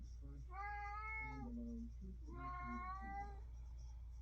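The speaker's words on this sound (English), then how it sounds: "Just ignore the cat." A cat meows twice, each call a drawn-out, wavering cry, heard close and clear over a low steady hum.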